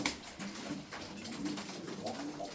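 Young tumbler pigeons coo in a steady, overlapping series of soft, low rolling calls, close by and with no talk.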